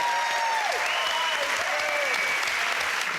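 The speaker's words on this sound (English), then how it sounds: "a round of applause for these two" Studio audience applause on a comedy music panel show, loud and continuous clapping with whoops and cheers rising above it throughout.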